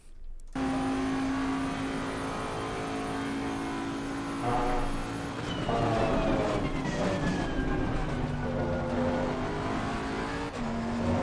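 A race car in Assetto Corsa Competizione corners under throttle, with a loud steady engine drone that climbs in pitch as revs rise, then drops and builds again through the turn. No one speaks.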